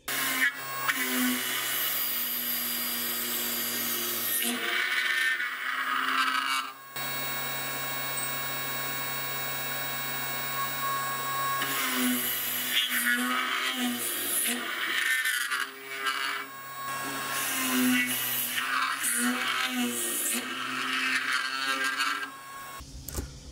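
A lathe fitted with a milling attachment drills a hole pattern, with a steady motor whine and hum running through repeated cutting passes that start and stop several times.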